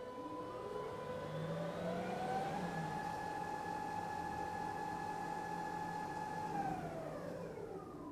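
IPC Eagle CT230 floor scrubber running its startup test, motors whining and rising in pitch as the deck, squeegee and brushes engage, then holding a steady hum before winding down, close and even, with no talking.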